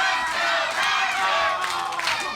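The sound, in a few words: wrestling crowd cheering and rallying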